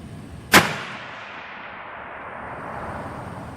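A single rifle shot fired while zeroing an ATN X-Sight 5x18 scope, a sharp loud crack followed by a long, fading outdoor echo and quiet background, no speech.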